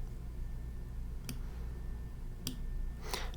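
Computer mouse clicks while layers are dragged and reordered in Rhino 3D modeling software, three sharp isolated clicks spaced about a second apart over a quiet background.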